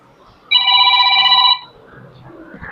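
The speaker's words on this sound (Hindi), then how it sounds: "मेरा फोन है क्या" A mobile phone rings out loud and close in a chemistry classroom, one bright electronic ringtone burst lasting about a second before it cuts off and soft voices carry on.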